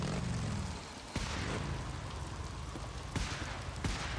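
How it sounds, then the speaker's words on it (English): Steady, dense rain hisses across the scene in Days Gone, a constant wash punctuated by a few dull thumps and booms. "Raining pretty good out here."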